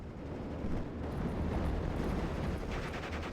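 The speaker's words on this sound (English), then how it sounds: "They're calling some heavy artillery into this general area. Panzer Warfare coming in for another barrage" A heavy artillery barrage in a WWII strategy game, heard as a dense, continuous low rumble of distant blasts, steady and fairly quiet throughout, without talk.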